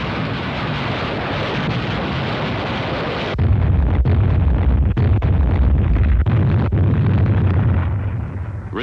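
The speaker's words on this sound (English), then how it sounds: "The assault troops were preceded by a rocket barrage directed against the area behind the" Rocket barrage explosions pound the area behind the landing beaches before the assault on Peleliu, heard in an archive war film: a loud, continuous roar of rumbling blasts that deepens and thickens partway through, with no voices.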